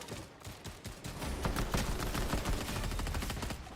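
Rapid gunfire in a video game comes as dense bursts of sharp shots, building from scattered reports into sustained automatic fire at moderate loudness, with no voices.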